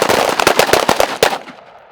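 Rapid close-range gunfire from soldiers on a short-distance shooting drill, a quick run of sharp loud cracks in irregular succession before fading into quiet.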